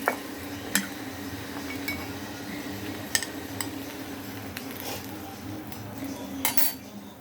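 A metal rod scraping and clinking against a paniyaram pan as fried paniyaram are lifted out, giving sharp, scattered metallic taps and clicks over a low steady background hum, close by and unaccompanied by talk.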